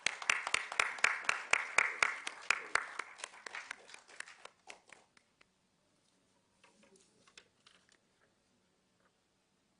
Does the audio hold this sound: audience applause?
yes